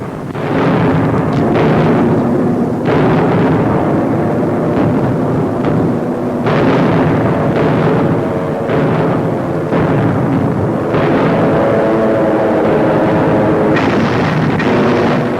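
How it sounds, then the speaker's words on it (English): American and RAF WWII bombers unleash high explosive bombs on the Afrika Korps across a North African front in 1942, archival newsreel: a loud, continuous roar with repeated heavy explosive bursts rolling through it, no voices. "From the sky, American and RAF bombers blast the enemy across a 40-mile front, unleashing tons of high explosive on Rommel's surprised and reeling Africa Corps."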